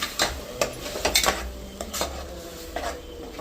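Mutton frying in oil with a mint, coriander and turmeric paste is stirred in a pan, with scraping spoon strikes and clinks over a soft sizzle, close and irregular, no talking.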